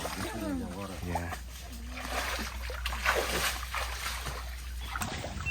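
Wading and splashing through knee-deep mud and water on a mud-crab trapping trip in the Philippines, with sloshing and trickling steady throughout and people talking over it.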